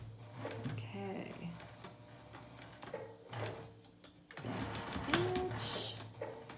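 Sewing machine back stitching a seam on pajama pants, quiet mechanical whirring runs in short bursts with pauses in between, heard close up.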